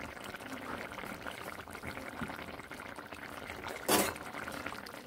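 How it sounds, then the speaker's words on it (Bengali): Broccoli and mixed vegetables boil in a pot with a low, steady bubbling and gurgling. A short, louder splash-like burst comes near the end. "বেশ ফুটতে শুরু করেছে।"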